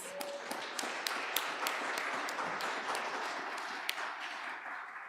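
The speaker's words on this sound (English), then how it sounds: "A big round of applause for the pledgers" Audience applause for first-time pledgers at a celebration event, a steady wash of many hands clapping at moderate level with a few sharper individual claps standing out, continuing throughout without speech.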